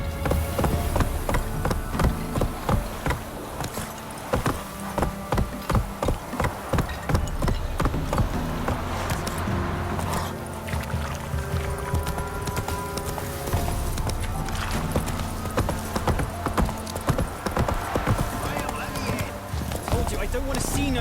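Galloping horse hooves in The Witcher 3, steady clip-clop rhythm running under continuous game music and voices talking, with an occasional whinny.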